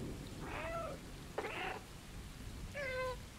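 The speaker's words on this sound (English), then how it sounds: "These little meows just get me every time." Three short, high cat meows from the video game Stray, spaced about a second apart, clear and close over a faint steady background hiss.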